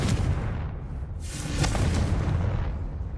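Confringo fire spell from the video game Hogwarts Legacy bursting into a loud, broad fiery explosion, a continuous roaring rumble with a couple of swelling surges and no talking.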